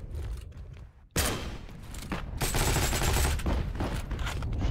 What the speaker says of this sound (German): Schlecht geschossen von mir.